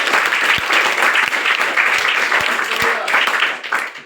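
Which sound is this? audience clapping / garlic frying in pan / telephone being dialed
audience clapping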